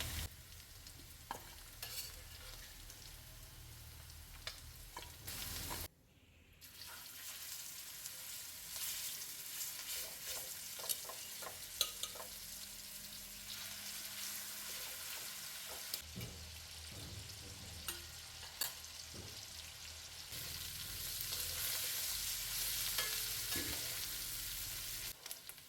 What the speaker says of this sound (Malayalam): ഈ ചിക്കൻ വറുത്ത വെളിച്ചെണ്ണയും മസാലയും എല്ലാം കൂടി കോരിയിടാം കേട്ടോ.